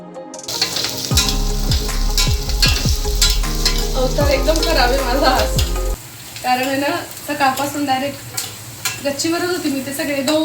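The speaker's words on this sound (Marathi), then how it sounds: "मस्तपैकी फोडणी देऊन घेते मी जिरं राई कढीपत्ता हिरवी मिरची कांदा आणि शेंगदाणे असं सगळं छान परतून घ्यायचे" Cumin, mustard seeds, curry leaves, green chilli, onion and peanuts crackle and sizzle in hot oil for a tempering, loud and close, with stirring scrapes and spluttering bursts through the whole stretch.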